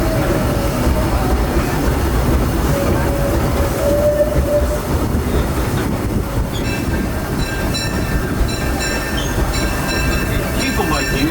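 A Disneyland railroad train rumbles steadily along the rails at night, with wheel noise, faint squeals and high metallic tones near the end.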